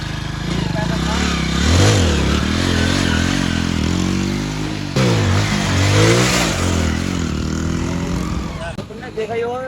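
A 100cc motorcycle engine revs hard and repeatedly as the rider launches a half-hold wheelie in first gear and then second. The engine note rises and falls in loud, close sweeps throughout.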